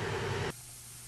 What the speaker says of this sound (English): let's start spraying